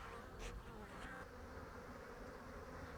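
Honey bees fly around their hives in an East Sussex apiary in early April, a soft continuous buzzing hum with occasional louder passes of single bees close by.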